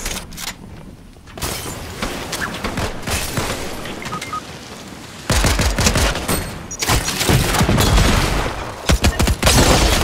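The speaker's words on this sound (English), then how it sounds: "I'm getting shot up, bro" Bursts of Fortnite gunfire crackle through a duos match, with a dense fusillade of rapid shots in the opening seconds and heavier, louder volleys of close gunfire returning over the final half.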